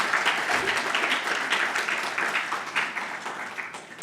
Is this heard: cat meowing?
no